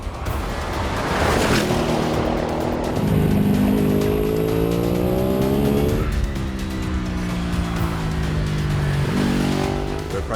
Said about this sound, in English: use the Audi's quattro traction to slingshot out the corner and down the back straight